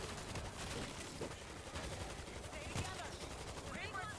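Gunfire from the World War Z zombie-horde shooter, with rapid bursts and scattered shots from stationary weapons like mortars and machine guns crackling steadily beneath a dense, noisy game mix at moderate level.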